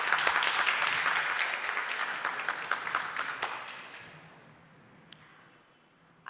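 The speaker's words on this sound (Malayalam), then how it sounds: "നല്ലൊരു കൈയടി കൊടുക്കാം." Audience applause at a nature photography club's annual award ceremony in a museum hall: a burst of many hands clapping that holds for about four seconds, then fades out to near quiet with one last stray clap.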